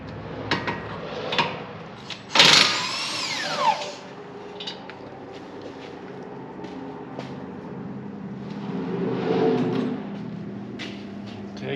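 Milwaukee power tool loosening the brake caliper bolts on a 2015 Jeep Grand Cherokee: a short loud whirring burst with a falling pitch, then clanks of tools and parts in a garage over a steady background hum.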